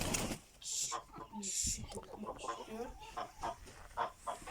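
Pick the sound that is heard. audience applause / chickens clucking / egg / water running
chickens clucking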